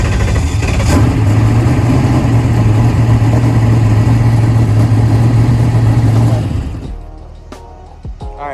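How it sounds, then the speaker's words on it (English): A turbocharged Mustang drag car engine runs loud and close at a dragstrip, a steady rumbling idle for about six seconds before it shuts off and falls quiet, leaving faint clicks behind. "we're fixing to crank it up and see if that cylinder is back or not"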